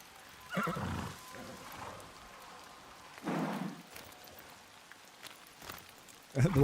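A white horse whinnies in the video game Ghost of Yotei, in short bursts with a louder neigh near the end, over faint rainy background noise.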